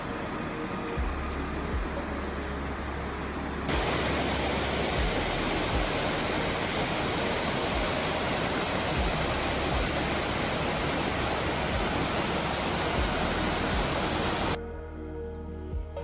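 A waterfall along a bushland hiking trail in the Grampians near Halls Gap, a steady, loud broadband rush of falling water that continues unbroken throughout.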